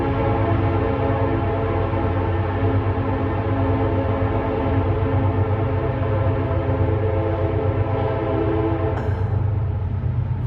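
A train rolls past close to a campsite near the tracks, a loud continuous rumble and rattle with a sustained horn tone layered on top, cutting off abruptly near the end.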